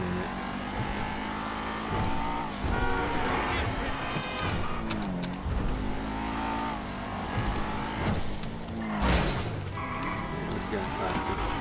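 A revving Rapid GT car engine in the video game GTA 5 Online roars steadily with rising and falling pitch, overlapped by talking voices throughout.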